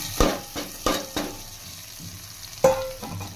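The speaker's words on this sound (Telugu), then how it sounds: "స్టవ్ కట్టేసి ఈ పోపు ఎత్తి మేము ఈ పప్పులో వేసుకుందాం" Hot tempering is tipped from a pan into tomato dal after the stove is switched off, making a brief sizzle along with a few sharp clinks of the pan and utensils.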